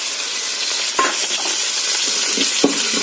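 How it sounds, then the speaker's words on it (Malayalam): Green chili, ginger and curry leaves fry in a pan for upma, giving a steady broadband sizzle with a couple of sharp utensil scrapes as they are stirred, close and continuous with no voices. "ചേർത്ത് നന്നായിട്ട് ഇളക്കി കൊടുക്കാം."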